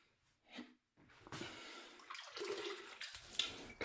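Water gushes steadily through a HEPA filter canister during rinsing, a loud continuous wash that swells after a couple of brief splashes.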